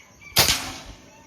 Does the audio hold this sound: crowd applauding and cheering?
no